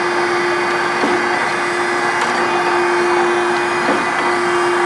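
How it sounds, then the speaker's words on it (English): An Okamoto 16x32 surface grinder's wheel dresser running, a loud steady machine whine with a strong constant tone and faint periodic ticks, no speech. "Okay. Dresser works."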